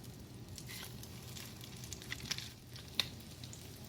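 Crab cakes fry in a frying pan over medium heat, giving a faint, steady sizzle with a few small pops and crackles.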